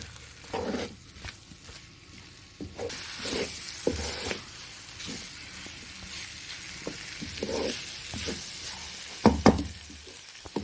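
Boiled potatoes, cooked with salt and turmeric, get stirred into a chicken and chonga (Caralluma fimbriata) curry in a pan, with a soft sizzle and steamy hiss under irregular scraping and clattering stirs, up close with no voices.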